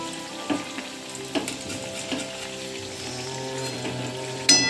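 Gokul pitha, a sweet fried dumpling, sizzles steadily in hot oil in a pan, with a few soft stirring clinks and a sharper clatter near the end, heard close and alone.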